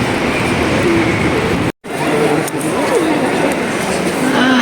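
Haramain high-speed railway station at night, a steady loud rumble of train and station ambience with faint tonal squeals, continuous apart from one brief dropout.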